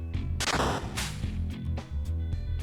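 A bomb bursts in the video game Peglin: several sharp, loud blasts come one after another over a busy backdrop of game effects and music.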